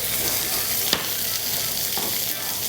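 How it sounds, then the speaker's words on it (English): Steady crackling sizzle of butter and thyme frying in a hot pan, with a couple of soft clinks of stirring, close and continuous. "the thyme frying off in the pan"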